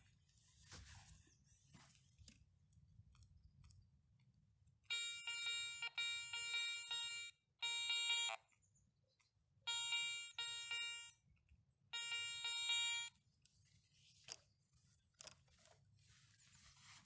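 Garrett 400i metal detector giving strong signals over a buried ring at about 15 cm, with four separate bursts of pulsing electronic tone over a low background hum and no talk.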